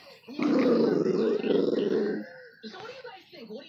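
A miniature pinscher growls low and loudly for about two seconds, a harsh sustained rumble up close. A person then speaks briefly after it.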